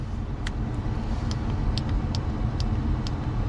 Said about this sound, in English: There's the blower motor.